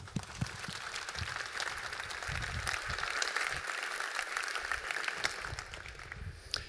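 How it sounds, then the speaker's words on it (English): Audience applause for a keynote speaker at JuliaCon 2024, a steady wash of many hands clapping in a hall, sustained for several seconds at even loudness with no talk over it. "Round of applause."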